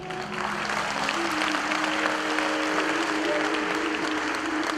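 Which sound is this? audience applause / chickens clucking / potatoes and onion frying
audience applause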